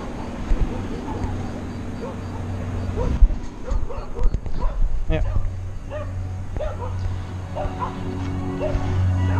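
Dogs barking and yipping in short bursts at a moderate distance, over a steady low hum from a Mitsubishi Outlander PHEV.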